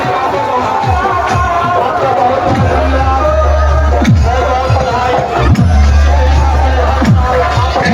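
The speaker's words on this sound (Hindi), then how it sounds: "बहुत ही भीड़ लगता है इस छठ घाट पर" A dense crowd fills a Chhath Puja riverside ghat with steady, loud babble of many voices, broken by occasional thumps and bangs, the hubbub continuous throughout.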